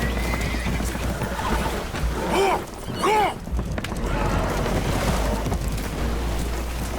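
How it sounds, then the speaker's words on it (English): Spooked horses whinny twice in quick succession aboard a leaking boat in the video game Red Dead Redemption 2, loud shrill neighs over a constant roar of water and rumbling background noise. "Horses are spooked, and we're taking on water."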